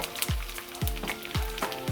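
Mustard seeds and chopped garlic sizzle in hot oil for a sweet chilli pickle, with sharp sizzling bursts repeating every half second or so over a short, close stretch.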